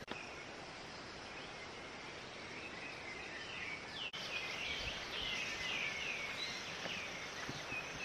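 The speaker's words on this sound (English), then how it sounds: "We can't hear anything, just the birds chirping and the waterfalls." Faint bird chirps and tweets repeat through a soft outdoor ambience in Northern Philippines, with a steady wash of rushing waterfalls beneath them.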